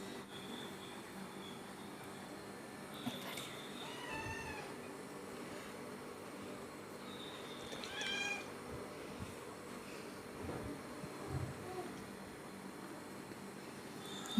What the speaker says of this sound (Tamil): பூனை வந்து பின்ன விட மாட்டேங்குது. ஒரே தடவி விடுங்கன்னு சொல்லிட்டு கிடக்குது. இந்த பார்த்தீங்களா கத்துது.